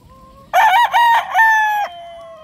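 A gray gamefowl rooster crows once up close, loud and clear, a harsh multi-part cock-a-doodle-doo of about a second and a half before fading to a low trailing note.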